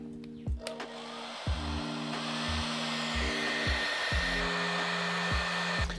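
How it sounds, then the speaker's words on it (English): A hair dryer on low heat and high fan blows steadily over a fish print (gyotaku) being dried, a continuous close whirring hum with slight pitch shifts and a few soft knocks as it is handled. "so we'll grab the hairdryer"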